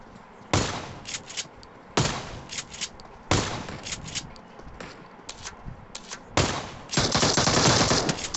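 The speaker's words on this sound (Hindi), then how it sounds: "देखो कि क्या गोलियां क्या चलाई उसने" Rapid bursts of automatic gunfire in a video game, several loud volleys separated by short pauses, ending in a sustained stream of shots, with no talk.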